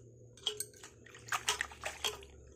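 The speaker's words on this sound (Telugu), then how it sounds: "ఇలా చక్కగా నీట్గా వాష్ చేసుకోవాలి" Gongura leaves being washed by hand in water in a kitchen: several soft splashes and sloshes in uneven bursts, close and fairly quiet, with no speech.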